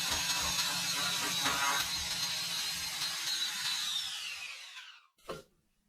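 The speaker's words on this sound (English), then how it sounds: "Then he grabs a sander to clean off all the leftover glue from the wood" Electric sander working over the wood of a 1950s desk clock to strip leftover glue, a steady close abrasive whir that fades out near the end, followed by a brief handling knock.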